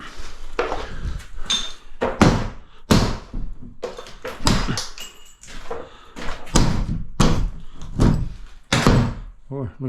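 A hammer strikes near a light switch fixed into wall studs, giving a rapid, irregular series of sharp, loud, close knocks and thuds with some rattling, and a voice talks briefly between the blows.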